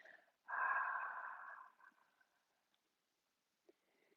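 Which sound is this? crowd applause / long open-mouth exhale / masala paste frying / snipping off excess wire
long open-mouth exhale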